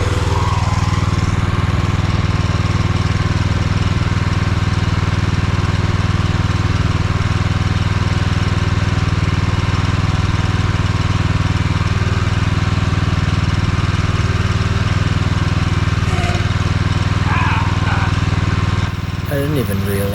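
Excavator engine running steadily after being refuelled, a loud continuous low drone close by with a constant rumbling tone, shifting slightly near the end.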